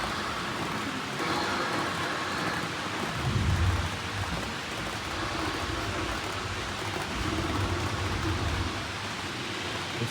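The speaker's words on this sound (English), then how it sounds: "it looks like we have a rain cloud moving in" Simulated rainstorm effect in a toy museum display: a steady hiss of falling rain with a low rolling rumble of thunder swelling mid-way, continuous and fairly loud with no talking.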